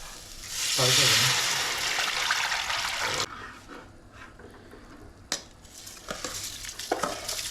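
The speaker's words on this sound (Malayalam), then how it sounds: "ഗ്രാമ്പൂ, കറുകപ്പട്ട, ഏലക്ക, പിന്നെ വേറെ എന്തൊക്കെ കൈക്കിട്ട് സാധനങ്ങളെല്ലാം എടുത്തിട്ട് നെയ്യും കൂടി ഒഴിച്ചു നന്നായി മൂപ്പിച്ചെടുക്കുന്നുണ്ട്" Loud, steady sizzling of cloves, cinnamon and cardamom frying in hot ghee for fish biryani, which then drops to a quieter crackle with a few sharp clinks of stirring.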